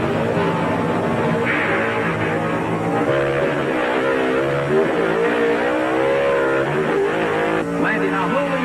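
Pro stock drag cars, a Chevrolet against a Dodge, launch hard with loud sustained engine roar and rising revs over a continuous crowd-level din, under a commentator's voice.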